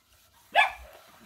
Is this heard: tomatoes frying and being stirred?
no